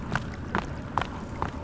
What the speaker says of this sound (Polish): Biegniemy, biegniemy, biegniemy.